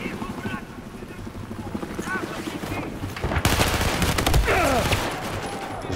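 Battlefield 4 gameplay: a helicopter thrums overhead amid rapid bursts of gunfire and a fusillade of shots, loud and continuous, with someone talking over the action.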